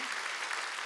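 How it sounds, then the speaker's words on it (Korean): A church congregation at a Wednesday worship service claps together in a sustained, fairly quiet burst of applause, even and continuous with no speech over it. "박수 치라."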